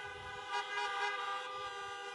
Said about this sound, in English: Honk if you can hear me.